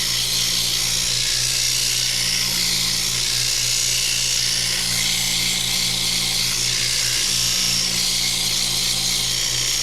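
Steady, loud whirring of a spinning lathe with a harsh abrasive hiss of sanding a turned wood piece, continuous and unbroken throughout.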